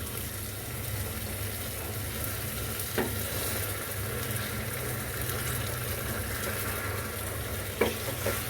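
Chicken simmering in a pan with a cup of milk, stirred with a steady background sizzle and bubbling, with a couple of sharp utensil scrapes against the pan near the start and end; no voices.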